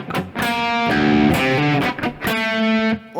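Distorted electric guitar chugs through a riff, thick palm-muted chords and sliding notes played close and loud, alone without any talking.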